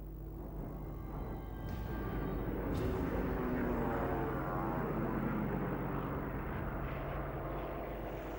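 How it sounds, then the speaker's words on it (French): Air force bombers taking off, a broad, steady engine roar that swells and holds loud throughout with no voices. "11 bombardiers de l'armée de l'air décollent"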